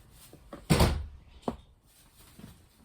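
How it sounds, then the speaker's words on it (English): A door bangs shut with a solid thump, followed by a lighter knock and faint rattles, while wind whips outside and the room stays quiet. "The door has finally closed."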